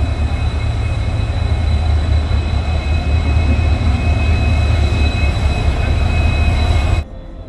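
Howrah–Adra–Chakradharpur Express standing at platform 21 of a busy station, a loud steady low rumble of idling engine and carriages with constant hum that cuts off abruptly near the end.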